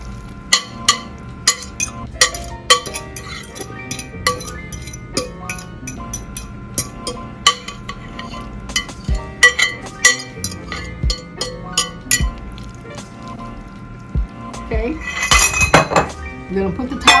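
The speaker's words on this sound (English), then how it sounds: "it's our casserole dish we're gonna put it in" Spinach casserole mixture being spooned into a casserole dish: a repeated series of sharp clinks and scrapes of a utensil against the dish, up close, with a brief busier clatter near the end.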